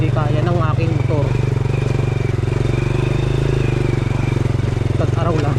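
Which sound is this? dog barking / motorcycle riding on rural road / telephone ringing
motorcycle riding on rural road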